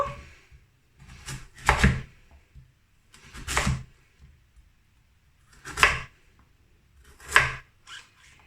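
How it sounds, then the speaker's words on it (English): A knife slices through celeriac root on a board, with about six distinct crunchy cuts arriving in irregular bursts separated by quiet pauses. "Now we're gonna chop our celeriac root in smaller pieces."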